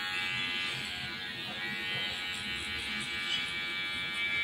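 Electric hair clipper set to a half-number guard buzzes steadily and close up during a fade haircut, a continuous whine with no talk over it.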